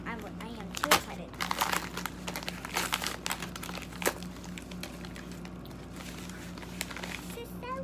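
Crinkling plastic packaging being opened on a Make It Mini Lifestyle toy set, irregular crackling rustles and crunches in bursts, close and fairly loud over a low steady hum, with a voice talking between.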